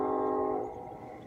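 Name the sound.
train passing with horn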